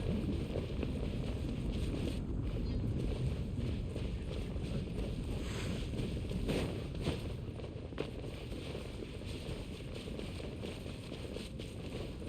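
A sailing boat cuts across waves in Genshin Impact, giving a steady rushing wash of water and wind. The sound holds at an even, fairly loud level throughout.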